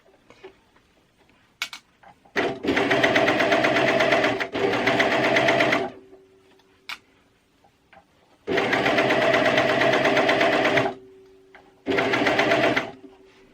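A coverstitch sewing machine runs on stretchy fabric in two long, loud, steady bursts of fast mechanical stitching. Quiet pauses with faint clicks separate them, and a shorter burst follows at the end.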